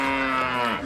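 A cow gives one loud, close, sustained moo, steady and droning and fading slightly at the end, heard alone without talking.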